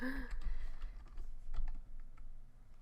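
Quick clicky keystrokes on a computer keyboard in irregular bursts, fairly close and moderately loud, with a short low hum or thump near the start.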